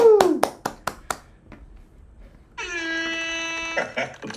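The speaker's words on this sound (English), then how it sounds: "Everyone, let's make a big clap." A handful of sharp claps sounds close at the start of an online networking chat, followed by a pause and then a sustained horn-like tone, with no crowd applause.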